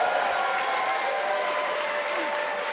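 Steady applause from a crowd, dense and continuous, fairly loud and close, with faint voices mixed underneath.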